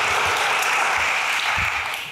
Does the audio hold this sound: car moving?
no